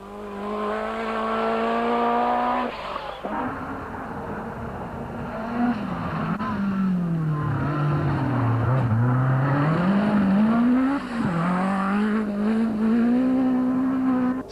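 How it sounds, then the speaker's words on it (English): A 1986 rally car on a New Zealand gravel stage screams past, its engine note climbing and dropping through gear changes as it approaches and passes nearby, loud and alone throughout. "First car through."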